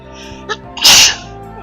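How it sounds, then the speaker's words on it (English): One loud, sharp human sneeze breaks out close to the microphone after a brief inhaled catch, over the steady music and sound effects of a computer game. "I did need to sneeze"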